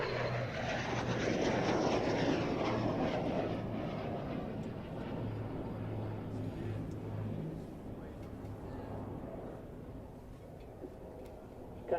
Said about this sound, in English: The Vulcan catches up the Lancaster.